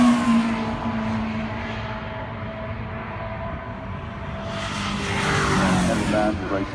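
A Ford Fairlane Thunderbolt race car sliding with its tail out on the track at the Goodwood Revival, a steady loud engine roar that swells near the end.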